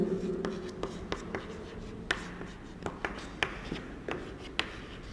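Chalk or marker strokes on a board during a lesson on complex number properties, a string of sharp taps and short scratches at an irregular steady pace, fairly close, with low room noise and no talking.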